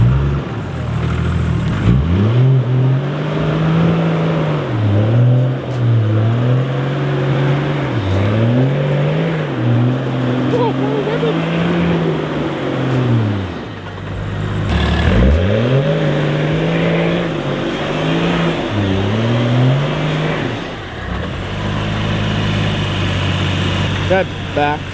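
Toyota Land Cruiser Troopy engine revving hard on turbo boost, repeatedly rising and falling in pitch while driving a rough track in a storm, loud and close, with people talking over it.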